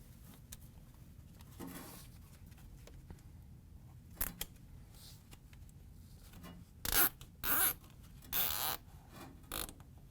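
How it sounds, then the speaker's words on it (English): A wire tie is ratcheted tight around a wiring harness inside a Frigidaire/Electrolux washer, giving several short, close zipping rasps in quick bursts against a quiet background. "the wire tie is going to go right through this hole and around the wiring harness to hold it in place"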